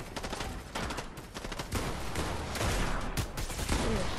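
An assault rifle fires continuously in a video game, a loud, dense, rapid stream of shots that runs throughout with no pauses.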